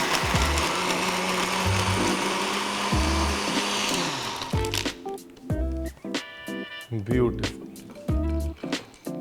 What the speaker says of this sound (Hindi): मिक्सी चला दीजिए।